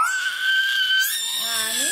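A young girl lets out a long, high, sustained scream while having blood drawn, loud and close, breaking into a wavering cry as it trails off, with an adult's voice faintly behind.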